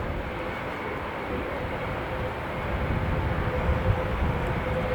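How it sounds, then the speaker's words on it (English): Belgian F-16 jet making a low go-around with undercarriage down at an airshow, a loud continuous engine roar that swells slightly toward the end with no talk. "Undercarriage down now for a low go around."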